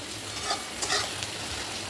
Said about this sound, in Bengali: আর এদিকে পেঁয়াজটা ভাজা হচ্ছে